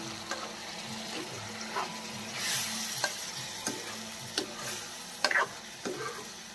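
A spoon scrapes and clinks in a pan of dal and water in irregular strokes, with a low simmering sizzle underneath and no voices.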